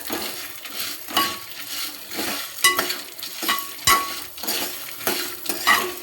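Coconut pieces fry in a pan while a spoon stirs and scrapes in regular strokes, each one giving a light metallic clink over a soft, steady frying hiss. Nearby and moderately loud.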